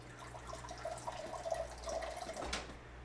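Water poured into a drinking glass as a steady, soft, trickling stream for about three seconds, faint and close, over a low background hum.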